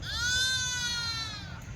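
A single drawn-out bleat from a sheep at a weekly sheep and goat market, loud and close, lasting over a second with no talk around it.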